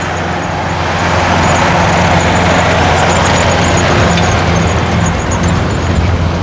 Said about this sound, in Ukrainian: Зараз цей трактор знов проїде, бо він тут чистить пляж, рівняє.